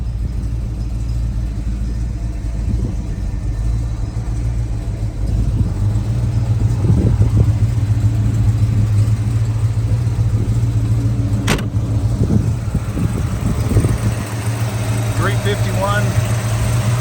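A 1940 Ford Deluxe coupe street rod with a 351 engine idles steadily and loud up close, a continuous low rumble with a brief sharp click partway through.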